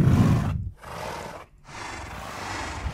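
A Minecraft horse whinnies several times in quick succession, loud and close, with short gaps between the neighs and no one talking.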